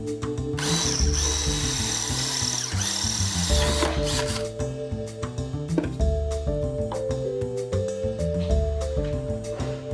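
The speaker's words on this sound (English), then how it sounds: "With a 1/4-inch drill bit, drill along the pilot hole until the drill bit pierces the depth of the tool." A power drill with a 1/4-inch bit runs continuously as it bores along a pilot hole in an auto glass push knife tool. The motor whines loud and close, with a steady tonal hum running underneath throughout.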